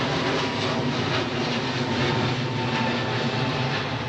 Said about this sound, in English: It's that Finnair's 350